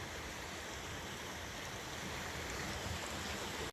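Creek water rushing steadily through Pine Creek Canyon in the Rainbow Mountain Wilderness, Nevada, a continuous close, loud broadband flow with no voices, cutting off abruptly at the end.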